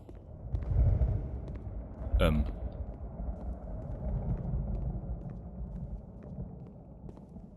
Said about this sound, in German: ein Gewitter zieht auf.